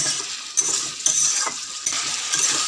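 Ridge gourd and potato sautéing in a pan with cumin powder, a loud close sizzle under repeated scraping strokes of a spatula about every half second, no voices.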